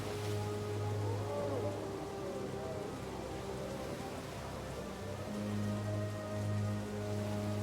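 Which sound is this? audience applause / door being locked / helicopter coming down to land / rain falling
rain falling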